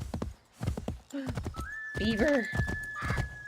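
A horse in Assassin's Creed III whinnies with a rising, wavering call over clip-clopping hooves. Someone speaks briefly before and after it.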